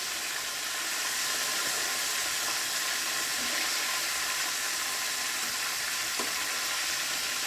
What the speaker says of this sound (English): now I cut them up and I'm frying them